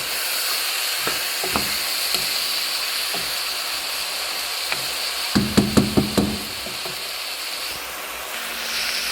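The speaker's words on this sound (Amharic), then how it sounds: "በደንብ አድርጌ አቁላለዋለሁ። ሽንኩርቱን ትንሽ እስከሚጠፋልኝ ድረስ" Onions fry in a pan with a steady sizzle throughout, broken by a quick run of sharp knocks and scrapes midway as the pan is stirred.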